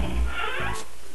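A pet cat in a room makes a short close vocal sound, a brief meow-like cry lasting about a second with steady room noise behind it.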